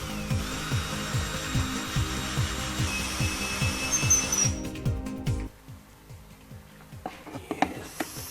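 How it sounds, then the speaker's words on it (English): A bolt is tapped into a homemade wooden pocket hole clamp, a run of rapid, evenly spaced close knocks and scraping over a workshop hum, then a pause with a few scattered clicks and taps. "next step is to tap the bolt in."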